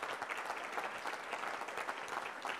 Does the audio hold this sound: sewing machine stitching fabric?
no